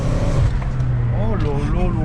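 A tuned BMW M5 of over 700 horsepower accelerates hard with wheelspin, its engine roaring loud and steady as a rising tone climbs over it, with people talking excitedly inside the car.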